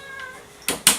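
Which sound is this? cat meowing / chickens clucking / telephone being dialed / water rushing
cat meowing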